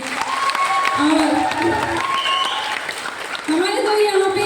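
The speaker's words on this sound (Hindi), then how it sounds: "हमारे तो यहाँ पे सिखाने पढ़ाने वाले हमारे ईश्वर सर का नाम से ताली होना चाहिए।" Audience clapping at a stage event, a steady wash of applause with some crowd noise, heard beneath a person speaking over it at close range.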